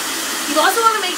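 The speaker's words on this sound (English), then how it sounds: "we're just gonna start blow drying" A handheld hair dryer blow-drying hair, a loud, close, continuous airy whine whose pitch wavers slightly as the dryer is kept moving through the strands.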